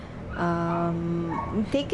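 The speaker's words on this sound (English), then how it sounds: "I apologize for that noise. That's my dog." A dog lets out a drawn-out whining yelp in the background while a person speaks nearby.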